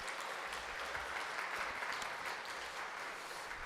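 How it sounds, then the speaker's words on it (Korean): Steady, dense applause from a Korean church congregation during a Sunday daytime service, a continuous even clatter of many hands held throughout with no voices on top. "우리 사랑과 감사를 담아 우리 박수로 크게 한번 부탁드립니다"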